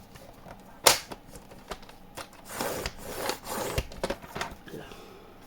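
Scrapbook paper being folded and creased for a pocket album, with crisp snaps and sliding rubs in short bursts close by, no talking.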